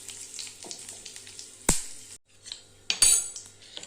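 Mustard seeds, fenugreek, curry leaves and a torn chili sizzle in hot oil for ladies finger mor kulambu, a close crackling fry broken by two sharp bursts as ingredients drop in, with a spoon clinking the pan.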